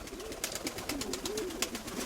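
Pigeons coo softly and close by in low, rolling calls, with faint rustling and fluttering around them.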